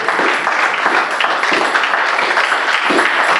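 A church congregation bursts into close, loud, continuous applause honouring parents, a dense wash of clapping with no pauses.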